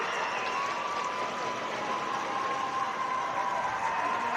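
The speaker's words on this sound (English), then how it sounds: "The crowd starts to rally here in Melbourne for the Ice. They start to cheer the last couple of seconds." Ice hockey crowd at a grand final in Melbourne, cheering steadily through the final seconds of the game as the home Ice side closes out the win; a dense, sustained roar with no breaks, heard from within the arena.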